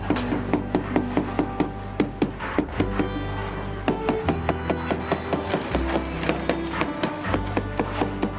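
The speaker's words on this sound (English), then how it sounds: "The rhythmic tapping of a hammer echoes as the craftsman slowly walks around the column formwork" A hammer taps on wooden formwork around a concrete column during a house foundation pour. Steady, rhythmic knocks come about twice per second, close and clear, over a continuous low machinery hum.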